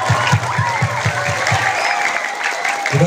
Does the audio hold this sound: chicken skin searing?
no